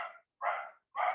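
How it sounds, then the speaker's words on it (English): A dog barking during an indoor class, three sharp, evenly spaced barks in quick succession, fairly faint and with nothing else around them. "Sir, it's better to continue the class rather than waiting for the dog to stop barking."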